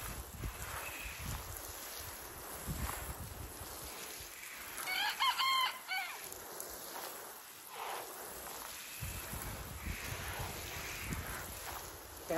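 Backyard chickens cluck softly and a rooster crows faintly in the middle, set against steady outdoor background noise.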